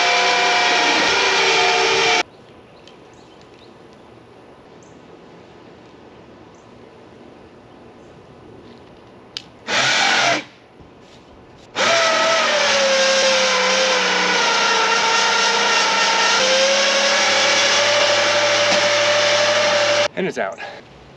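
Golf cart winch pulling a tree stump from the ground, a loud steady electric whine running in long bursts with a quieter stretch between, the pitch shifting slightly under load.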